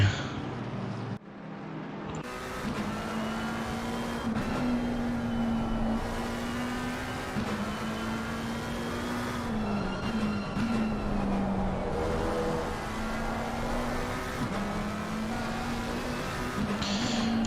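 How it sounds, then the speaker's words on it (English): A McLaren race car engine in a racing video game at Snetterton screams steadily through the gears, a continuous high-revving whine with brief dips at shifts, loud and unbroken throughout. "The sound of the McLaren. It's making me very, very happy."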